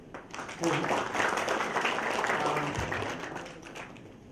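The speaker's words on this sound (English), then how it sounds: "So a really big applause for him." A conference audience at a PostgreSQL event applauds a code committer, steady dense clapping filling the room for several seconds before tapering slightly, with some voices mixed in.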